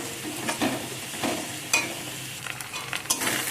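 Spices and ginger paste sizzle in hot oil while a utensil scrapes and stirs through them, giving a fairly quiet close frying hiss broken by irregular clinks.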